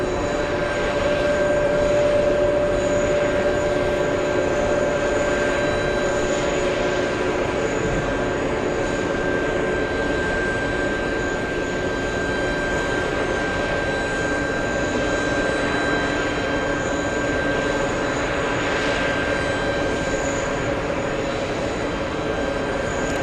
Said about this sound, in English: the 757 getting close